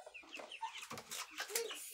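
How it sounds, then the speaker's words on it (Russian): Tame chickens bought at a market fair cluck softly close by in a farmyard, with a string of short, irregular clucks and squawks over about two seconds at low volume. "Вот такие вот курята. куры. Почти ручные, нормальные, спокойные, то есть классные куры."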